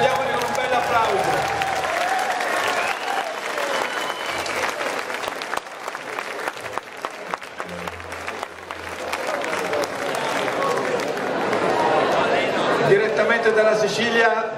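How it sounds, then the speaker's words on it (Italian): A live audience at the Torrita Blues festival in 2005 applauds loudly and steadily to welcome a Sicilian blues band from Alcamo, with dense clapping and some cheering that swells again near the end. "Accogliamoli con un bel applauso."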